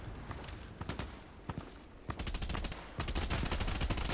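Rapid tactical weapon gunfire in the Contract Wars video game: scattered single shots at first, then sustained fast bursts of automatic fire growing louder and denser toward the end.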